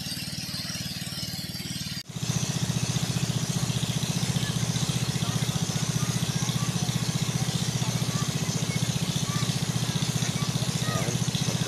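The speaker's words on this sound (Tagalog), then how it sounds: "pasensya na po sa ingay ng ano, ng motor na panghibas." A loud, steady motorized grass cutter drones close by at a drained fish pond after a brief pause, its engine idling and rattling continuously without letup.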